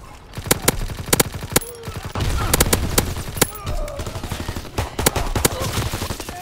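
Sustained battlefield gunfire from Call of Duty: WW2 on the Operation Griffin map, with rapid, sharp shot transients in quick bursts and overlapping volleys, loud and close throughout, over a dense background of distant combat.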